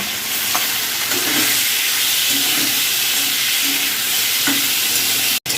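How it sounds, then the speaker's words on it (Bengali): Prawns frying in hot oil in a wok: a loud, steady hiss and sizzle filling the whole stretch, close up, with faint scraping stirs and a brief dropout just before the end, no voices. "তেলটা আমার গরম হয়ে গিয়েছে, এতে আমি দিয়ে দিচ্ছি চিংড়ি মাছটা"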